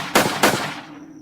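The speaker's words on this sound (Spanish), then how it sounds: "disparos" Two sharp, loud gunshots ring out in quick succession, each trailing off into a fading echo.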